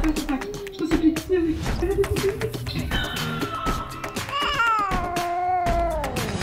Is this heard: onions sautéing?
no